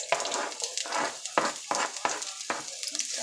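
Onions dropped into hot oil in a skillet for stewed chicken hearts, sizzling loudly and close with repeated bursts of crackle and stirring scrapes in quick succession, no talk.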